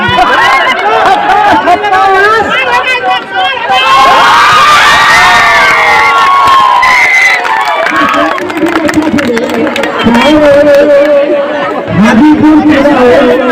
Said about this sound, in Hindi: आप ऐसे उसकी हौसला अफजाई के ताली बजा दिया करें